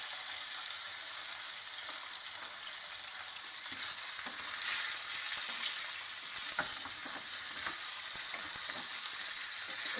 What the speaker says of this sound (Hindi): अब इसके बाद मैं इसको फ्राई कर लूँगी